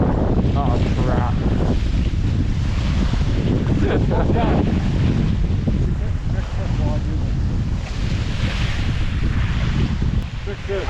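Strong cold wind buffets the microphone on a freezing lake shore, a steady loud roar with water and surf beneath and people talking through it.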